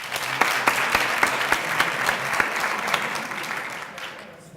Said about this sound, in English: Ms. Nicole, can you wave and they give you a round of applause?